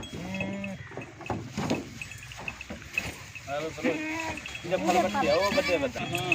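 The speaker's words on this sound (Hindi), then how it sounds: "ये एक बकरी लोड की है, इसके बच्चे भी लोड करते हैं" Goats, including a nanny and her two kids, bleat repeatedly while being loaded as cargo outdoors, with overlapping nearby calls and faint insect chirps in the background.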